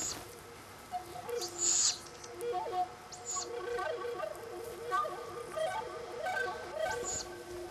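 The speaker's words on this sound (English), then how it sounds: "The barn owl mother has made a kill." A barn owl mother that has made a kill calls with short, raspy shrieks and screeches over a soft, steady background of chirps and rustling, moderately close.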